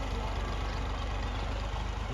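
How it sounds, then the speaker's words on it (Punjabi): A tractor stuck in a village field runs its engine in a steady, continuous low drone, fairly loud and close, with no clear changes in pitch over the short stretch. "ਉਹ ਟਰੈਕਟਰ ਫਸਿਆ ਵਿੱਚ ਜੀ।"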